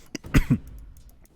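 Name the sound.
cough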